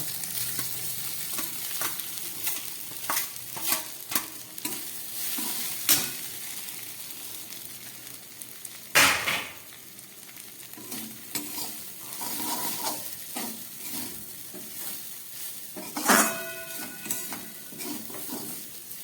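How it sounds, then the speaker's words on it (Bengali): Soaked flattened rice frying in a pan with ghee and salt, a low sizzle broken by repeated spatula scrapes and stirring clatter, one louder knock midway. "এবার এই ভিজিয়ে রাখা চিড়েটা আমি এর মধ্যে ভালো করে ভেজে নেব"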